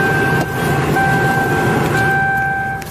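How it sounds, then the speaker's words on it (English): A cheap used car bought off Craigslist drones with a loud, steady engine roar and rumble from inside the cabin, holding an even level for the whole stretch. "why is this car so loud?"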